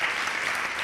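Applause during an interview sounds as dense, steady clapping from a group, close and even throughout with no talk over it.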